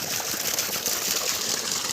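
Water gushes steadily and loudly from the 1.5-inch delivery pipe of a 2200W BLDC borewell pump drawing from 400 feet, a continuous broad splashing rush with no voices.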